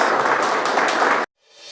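A church congregation at a Christmas service claps together in a dense, steady burst of applause that stops abruptly after about a second, leaving a brief quiet tail.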